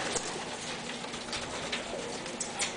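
Pigeons coo softly in a crowded loft during a pigeon race's bird intake, a dense murmur of low calls over a constant background hiss with no talking.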